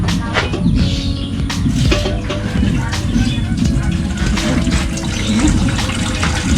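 Water pours steadily into a cooking pot for boiling pork, a continuous close splashing and rushing flow lasting several seconds with a faint bird or two in the background.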